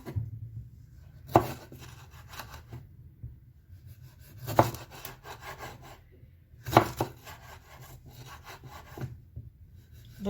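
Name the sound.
knife slicing fresh chili pepper on cutting board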